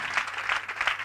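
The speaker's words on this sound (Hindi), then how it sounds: "उसके लिए तालियां बजा देंगे" An audience at a Christian church service gives a brief, faint burst of clapping lasting about a second, in quick uneven pulses.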